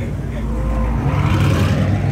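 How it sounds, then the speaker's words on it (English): A loud American muscle car engine rumbles deeply and revs nearby as it leaves a car show, with people's voices mixed in. "His car is just stupid loud."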